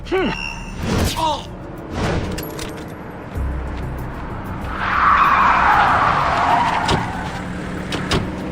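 Car tyres skid and squeal in the stealth video game Splinter Cell Conviction, a broad rushing burst swelling in the middle of the scene, with voices talking briefly at the start.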